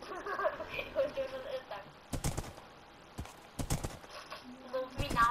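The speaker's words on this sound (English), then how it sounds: "My horse is so fast." Minecraft horse hooves clip-clop in uneven bursts of hoofbeats over a busy, murmuring background.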